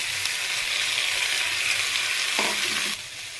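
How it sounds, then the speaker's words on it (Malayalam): Beans sizzle steadily in a pan with onion, curry leaves, crushed pepper, garlic and dried chilli, a close, even frying hiss with a short scrape of stirring near the end. "കറിവേപ്പില, സബോള ഇവ ഇട്ട് നല്ലപോലെ വഴറ്റുക"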